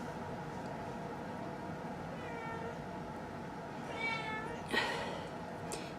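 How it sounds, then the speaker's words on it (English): A pet cat meows a few times in the background of an indoor room, faint and intermittent over a steady low hum, with a slightly louder call near the end. "you can hear my cat in the background as always."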